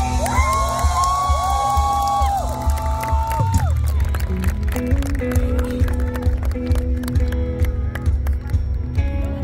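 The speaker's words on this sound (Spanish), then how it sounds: "aplauso para ese barbón" A crowd at a concert tribute cheers, whoops and claps for a musician, loud shouts and whistles early on settling into steady applause and scattered cries, with amplified music tones in the background.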